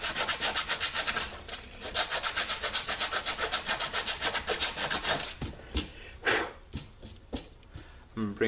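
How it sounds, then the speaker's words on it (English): Coarse 60 grit sandpaper worked back and forth on a wooden pistol stock from a Lyman Great Plains pistol kit, giving fast rhythmic rasping strokes, close and loud, that slow into scattered scrapes and rubs toward the end. "right now I'm going over it with some 60 grit sandpaper"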